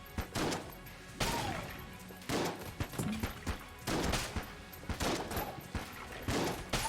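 Shotgun fire in the top-down roguelike shooter Enter the Gungeon, coming as repeated loud blasts in irregular bursts over several seconds, mixed with other game combat noise.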